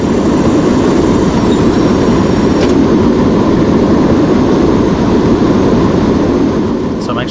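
Airliner jet engines run at full power during a landing approach in Extreme Landings, a loud, steady roar with a heavy low rumble that holds constant throughout, broken only by a couple of faint clicks.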